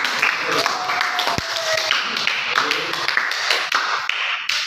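A classroom group claps for a team that answered correctly, a scattered burst of individual sharp claps with uneven rhythm, fairly close, with a brief tone and some voices mixed in.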